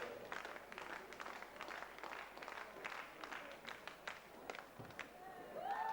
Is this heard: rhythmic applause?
yes